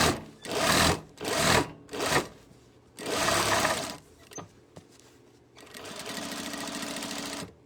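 A sewing machine stitches a tote bag in a live sewing class, running in several loud bursts of rapid whirring stitching separated by short pauses, then a longer steady run at the end.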